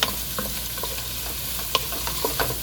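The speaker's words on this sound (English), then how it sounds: "it smells wonderful with the Italian herbs sauteing in the frying pan" Continuous sizzling of Italian herbs sautéing in a hot frying pan with occasional scraping stirs and small pops, close and steady, no one speaking.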